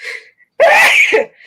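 A single sharp, loud sneeze close by, preceded by a brief breathy intake.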